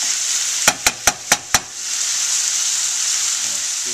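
Corn maque choux frying in a pan as it develops a crust gives a steady, close hiss of sizzling. Early on, five quick, evenly spaced sharp taps of a utensil ring out, then the sizzle carries on alone.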